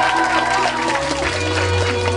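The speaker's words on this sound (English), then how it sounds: "Please give a round of applause for Tom." Live lounge audience applauding guitarist Tom Harris, a steady wash of clapping and crowd noise with a little cheering, fairly loud and continuous throughout, with music or voices faintly underneath.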